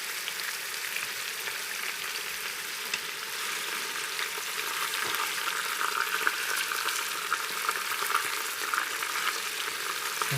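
A pot roast sears in a Crux pressure cooker with a steady, close sizzle of hot fat. The frying noise runs unbroken from start to end with no talking.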